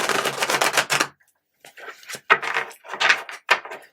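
Tarot cards are shuffled near the microphone in a crisp riffling run, followed after a pause by several shorter bursts of card flicks and taps.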